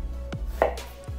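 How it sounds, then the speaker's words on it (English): A knife chops through a large onion on a cutting board for beef stew, three distinct crisp knocks spaced unevenly, close and clear, with no talk. "We're gonna start off by chopping up a large onion."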